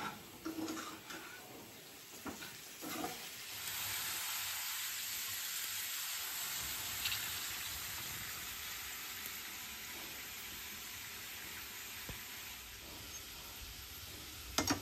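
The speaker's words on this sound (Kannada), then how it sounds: "ನಾವು ಈ ಥರ ತಿರುಗಿಸ್ತಾ ಇರಬೇಕು, ಅದು ಫ್ರೈ ಆಗೋದಂತ. ಸ್ವಲ್ಪ ಕ್ರಿಸ್ಪಿ ಆಗಬೇಕದು, ಅಲ್ಲಿಗಂತ ಫ್ರೈ ಮಾಡ್ತಾಯಿರಿ" Food frying in a pan with steady, bright sizzling that runs throughout, broken by occasional scraping and knocks of a spoon stirring, close and loud with no talk.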